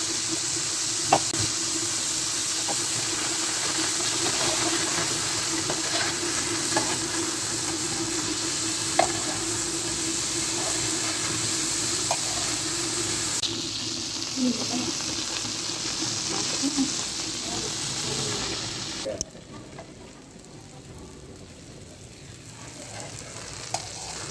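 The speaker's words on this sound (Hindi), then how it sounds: "अच्छी तरह से फ्राई कर लेंगे भिंडियों और मिर्चों को" Okra and green chilies frying in a pan, a loud continuous sizzle with occasional knocks of a spoon that drops to a quieter hiss near the end.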